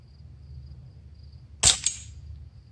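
A BB gun fired at a lava lamp outdoors gives one sharp snapping crack followed by a quick second smaller impact tick, over a faint low background hum.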